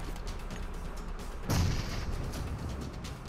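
A grenade blast in PUBG mobile, a sudden low boom at mid-clip over steady game ambience, with rumbling tail afterward.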